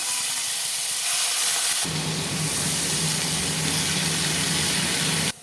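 Onion paste dropped into hot oil with whole cumin for a cabbage dhoka curry. A loud, steady sizzle bursts in about two seconds in and holds evenly to the end, after a quieter hiss at the start.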